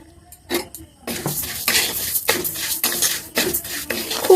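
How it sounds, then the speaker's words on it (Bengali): Lentils dry-roasting in a pan with no oil for a puja-style bhoger khichuri, with scraping and stirring clatter and light rattling grains at moderate volume, and no talk. "ডালটাকে ভেজে নেব, তেল দেব না, শুধুই ভেজে নেব"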